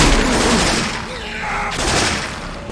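Loud, close automatic gunfire using Syphon Filter weapon sounds inside Left 4 Dead 2, a sustained burst of rapid shots with a voice faintly underneath.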